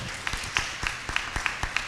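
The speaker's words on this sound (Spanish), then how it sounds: "Aplausos." An audience at a journalism panel forum applauds with a quick run of evenly spaced, moderately loud claps, heard close up.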